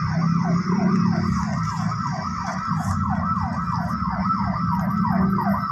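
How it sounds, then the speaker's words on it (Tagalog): A police car's siren near Dasmariñas Village wails continuously in a regular rise-and-fall pattern, close and loud above a deep, steady road rumble. "Pulis yan, di ambulance. Nagawang-wang."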